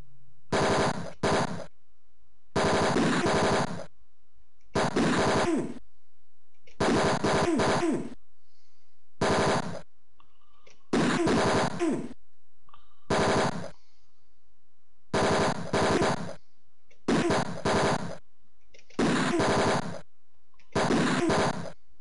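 Repeated bursts of rapid gunfire come from a shootout in the video game Mean Streets, loud and close, with about a dozen volleys separated by short silences.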